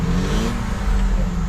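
A car engine with what sounds like a turbo revs up quickly and loud, spinning straight up to high RPM in a strong, continuous roar with no talk.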